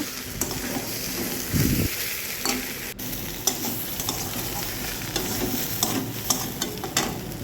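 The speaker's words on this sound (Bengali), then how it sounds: "ডিমটা দিয়ে আবার মশলাটা ভালোভাবে ভেজে নেব" Steady sizzling of egg and spices frying in a pan, with scraping and clinking stirs throughout and a louder clatter near the start.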